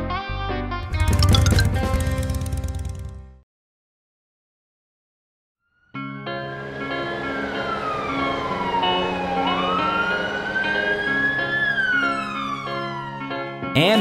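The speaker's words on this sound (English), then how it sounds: "Ambulance." An ambulance siren wails with a rising and falling tone over road traffic, following a brief burst of other noise and a few seconds of silence.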